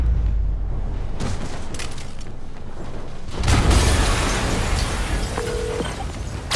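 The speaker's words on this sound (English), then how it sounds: "an explosion just..." A video game explosion in Marvel's Spider-Man bursts partway through, a loud rushing blast rising over an ongoing low rumble and mechanical clatter, with no talk.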